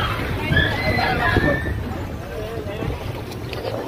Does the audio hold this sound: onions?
no